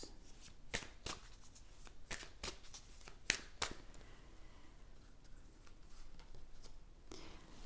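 Tarot cards are shuffled close by, giving sharp riffling snaps and soft slides at irregular intervals over quiet room tone.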